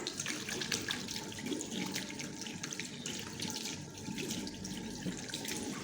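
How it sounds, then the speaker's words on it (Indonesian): Water runs steadily from a tap as hands are washed beneath it during a clinical procedure, a continuous close splashing flow with no talk. "Selanjutnya kita mencuci tangan."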